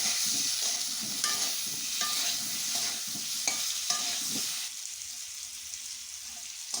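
Potatoes frying with turmeric and salt in a pan, steady sizzling with repeated stirring scrapes and taps, fairly close, the sizzle easing slightly toward the end, with no speech.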